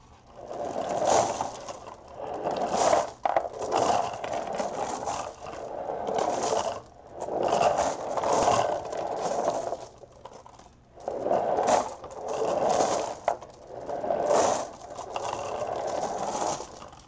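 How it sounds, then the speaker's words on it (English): Marbles roll back and forth over paper with dabs of paint in a tray, a continuous rattling scrape that swells and fades in repeated sweeps, close and fairly loud with no voices. "so that you don't have to listen to those marbles go back and forth all over the place"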